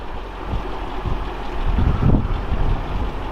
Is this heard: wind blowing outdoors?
yes